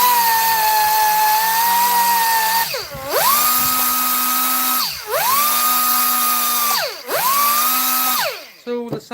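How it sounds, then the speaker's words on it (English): Dual action sander with 1500-grit paper removing a mark during a Honeywell Turbovisor refurbishment, a loud steady whine that dips and recovers three times as pressure changes, ending in a short rattle. "I'm going to use a dual action to remove that mark"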